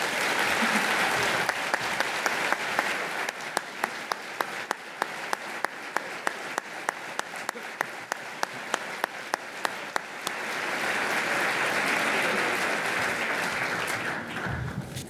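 Audience applause at the 2011 AFT Everyday Heroes awards ceremony, a loud sustained wash of many hands clapping, with a few sharp individual claps standing out and fading at the end.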